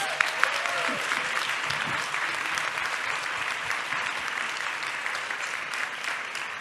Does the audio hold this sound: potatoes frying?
no